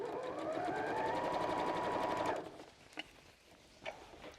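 A sewing machine runs in one steady burst, stitching a seam on a fabric tote bag made from a single fat quarter, then stops abruptly, leaving a few faint clicks and handling noises.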